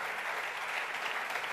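A brief, faint burst of steady clapping from a distant audience at a 2017 sports awards ceremony, greeting an introduced athlete, Luca Malcotti.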